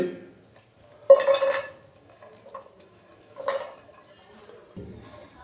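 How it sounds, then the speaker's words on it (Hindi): About 300 grams of finely chopped onions tipped into a kadai, a few clattering scrapes and metallic knocks of utensil against pan, close and intermittent with quiet gaps, while a person talks. "सबसे पहले हम कढ़ाई के अंदर 300 ग्राम के करीब प्याज डालेंगे बारीक कट किए हुए"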